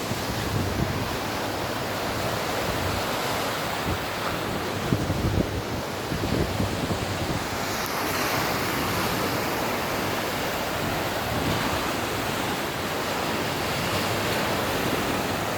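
Ocean waves surge and crash onto the shore in a continuous, loud wash with wind buffeting the microphone, swelling slightly in places and heard without any talk.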